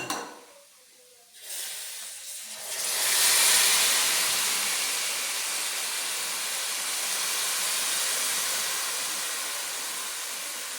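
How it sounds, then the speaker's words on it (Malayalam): Squeezed tamarind juice hits a hot pan of roasted spices for a bitter gourd curry. After a quiet start it bursts into a loud, steady steaming hiss that slowly eases but keeps going to the end. "നമുക്ക് ഇതിലേക്ക് പുളി പിഴിഞ്ഞൊഴിച്ച് കൊടുക്കാം."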